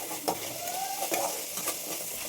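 Fish sizzles in a hot pan, a steady frying hiss with a few brief clicks and scrapes of a utensil against the pan, fairly quiet and without talk.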